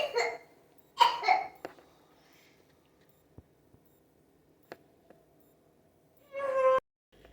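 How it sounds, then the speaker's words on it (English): A sleeping baby gives a few short coughing bursts near the start, then quiet with faint small clicks, and one more rough burst near the end; soft and close, no talking. "My baby's asleep, y'all. He's coughing in his sleep."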